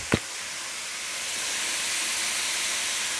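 Onions cooking in a small home kitchen, a steady broad hiss of sizzling that swells slightly and holds evenly, with one brief sharp tick at the start and no talking.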